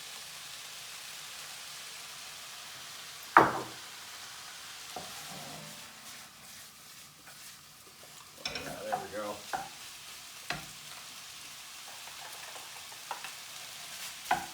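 A stir-fry of leftover fridge vegetables with sriracha peanut sauce sizzles softly in a pan after a splash of soy sauce, a sharp hiss burst followed by quieter frying and intermittent clattering stirs.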